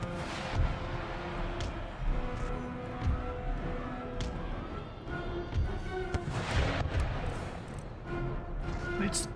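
Musket volleys and artillery fire from the Empire: Total War video game battle, with repeated booms and crackling shots layered over continuous battlefield noise and background music.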